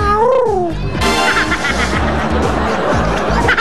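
A cat's meow rises and falls clearly at the start, then gives way to loud rhythmic music with a steady thumping beat and crowd noise.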